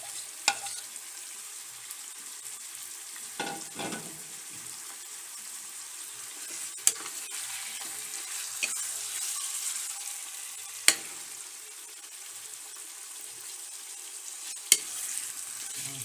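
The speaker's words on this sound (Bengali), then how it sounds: "এবার তেলটা গরম হয়ে গেলে আমি মাংসটা ঢেলে দেবো।" Beef frying in hot oil in a pan, a soft continuous sizzle with several sharp pops and clatters scattered across, no talking.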